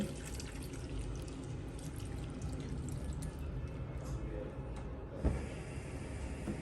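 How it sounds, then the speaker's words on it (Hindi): Water from a glass poured into minced keema cooking in a pan with onions, tomatoes and spices for a capsicum keema, a steady splashing, bubbling wash lasting several seconds, close and fairly loud, with a brief louder splash near the end. "इसमें 1 गिलास हम पानी ऐड करेंगे कीमे को गलाने के लिए"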